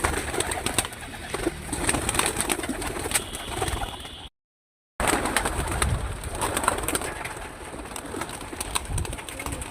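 Pigeons released from their coop in the morning give repeated low, throaty coos close by, over a busy outdoor background, with a brief silent gap midway.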